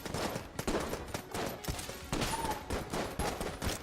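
Rapid bursts of gunfire from the video game Enter the Gungeon, a dense, loud barrage of overlapping shots that continues steadily with brief dips throughout.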